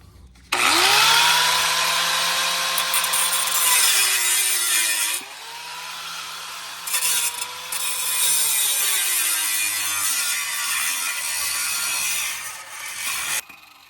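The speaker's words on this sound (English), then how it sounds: "Now we have our cutting disc, and we're going to go under here and remove this rivet." An abrasive cutting disc on a grinder slices under a truck bracket to remove a rivet, a loud harsh screaming whine that dips and bogs under load in several long passes, briefly easing between cuts.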